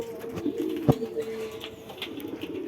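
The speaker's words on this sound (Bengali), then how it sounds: "ওই যে দেখেন একটা কবুতার নর কবুতার আর মাদি কবুতার ওই পাশে আছে" Pigeons in a loft, a male and a female nearby, give soft low coos over steady faint background noise, with one brief sharper sound near the middle and no talk.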